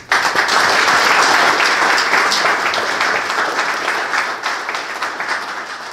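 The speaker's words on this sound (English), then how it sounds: "And I think they all ought to be applauded for that." Audience applause following a governor's speech, loud dense clapping that starts abruptly and holds steady, slowly tapering toward the end.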